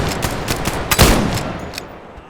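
Rifle fire in the video game Scavland: a rapid run of sharp shots, with one heavy, close blast near the middle, then a decaying echo and a couple of fainter shots.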